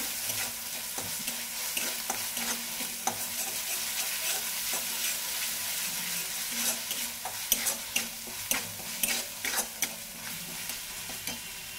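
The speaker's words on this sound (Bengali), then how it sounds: "দেওয়াটা আবার খুব ভালোভাবে ভেজে নেব" Ginger-garlic paste fries in a pan for papaya korma, a close, steady sizzle with repeated stirring scrapes that grow louder and more frequent toward the end.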